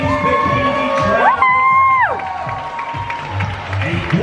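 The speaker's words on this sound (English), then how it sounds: "Audience members, can we have a round of applause for your ladies' bikini" A crowd at a PCA Midlands bikini bodybuilding show gives a burst of applause and cheering with whoops and shouts. Loud tonal sounds, likely music, run across it, and voices are heard.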